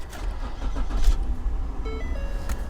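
An old RAM 50 mini truck's engine cranks and catches after a jump start, settling into a close, low idle with a brief chime-like tone over it.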